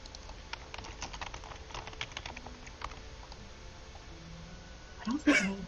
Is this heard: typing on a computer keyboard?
yes